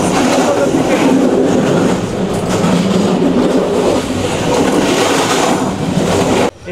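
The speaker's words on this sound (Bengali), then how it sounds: "এখন আমরা ট্রেনে করে যাচ্ছি শ্রীমঙ্গলের দিকে।" A Jayantika passenger train runs from Dhaka toward Sreemangal in Bangladesh, heard from on board as a loud, steady rumble and rattle of the carriages that cuts off abruptly near the end.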